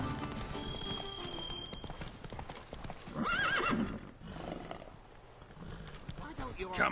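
Roach the horse in The Witcher 3 clip-clopping along with hoofbeats throughout, then a loud whinny and neigh in the middle, with game sounds and a voice in the background.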